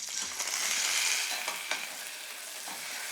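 Pork chops sear in a hot pan, giving a steady close sizzle and crackle with a few brief pops, with no voices.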